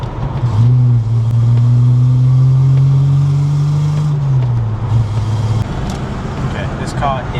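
A Holden VS Commodore engine revving while driving, the loud close drone climbing steadily in pitch for several seconds and then dropping back, with a voice speaking over it.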